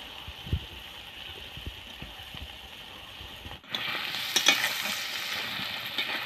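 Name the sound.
fried potatoes stirred into pigeon meat curry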